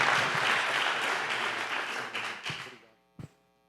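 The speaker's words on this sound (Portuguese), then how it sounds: "Aplaudir Jesus mais uma vez" Church congregation applause, a loud round of clapping that fades out after about three seconds, followed by a couple of isolated claps and a brief quiet hum.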